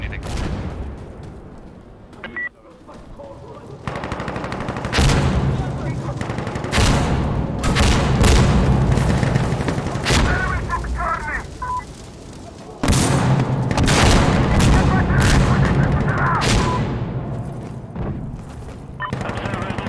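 Gunfire and explosions from the video game Insurgency Sandstorm ring out in loud bursts of rapid shots and heavy booms, with short lulls between volleys and voices talking over the action.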